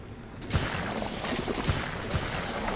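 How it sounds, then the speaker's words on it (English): In the Ghostbusters video game, the Slime Blower sprays slime as a sudden, continuous loud gushing hiss. Dull thumping pulses recur about once a second throughout the spray. "To use the Slime Blower, just point and squirt."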